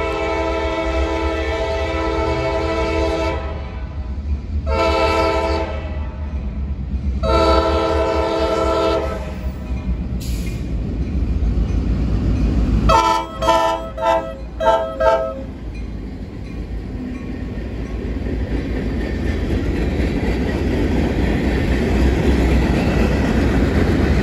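A train pulling out of a rail yard rumbles past close by, its horn sounding in long blasts and then a burst of short toots, with wheels clattering underneath throughout.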